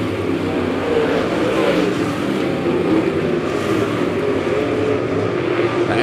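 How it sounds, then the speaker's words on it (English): Dirt late model race cars roar around a track during a heat race, a continuous loud engine drone with no clear pauses and no audible talk. "Joey Smith's going to lead them out of turn 4"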